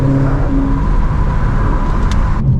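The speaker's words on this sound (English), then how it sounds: "GT500 twin turbo. I did that just for y'all." Ford Mustang GT500 twin turbo engine heard from inside the car, a loud, steady low rumble with a brief rise in pitch, then cutting off near the end.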